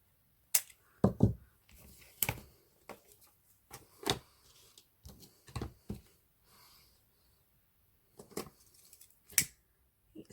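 Scissors snip through excess ribbon while a flat boutique hair bow is finished, a series of sharp close clicks and cuts in irregular bursts with quiet pauses between.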